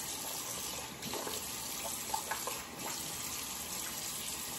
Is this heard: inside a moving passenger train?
no